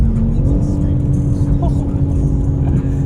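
BMW G82 M4 Competition with the S58 engine and ZF 8-speed gearbox on a road drive, heard from inside as a loud, steady engine drone with a rising pitch early on; no one speaks.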